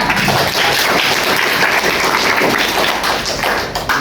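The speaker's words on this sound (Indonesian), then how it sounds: "Tepuk tangan" A schoolroom class of seventh graders claps hands together, a dense, loud and close burst of clapping with some thumping that holds steady for about four seconds.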